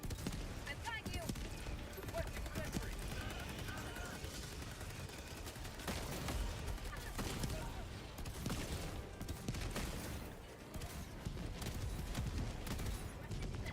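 Sentry turrets, including a rocket sentry, firing in the video game Helldivers 2, with rapid bursts of gunfire and booming blasts in dense, irregular volleys, under a player talking.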